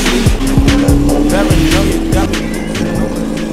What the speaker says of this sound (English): Let's go ride the crazy cart for a bit.